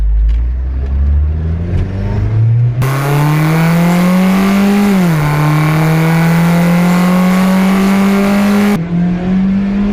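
Turbocharged Saab accelerating hard with a repaired turbo intake, engine drone climbing steadily in pitch through the gears, loud and close from inside the car with no talking.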